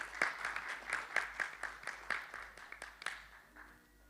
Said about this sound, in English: big applause once again for Wally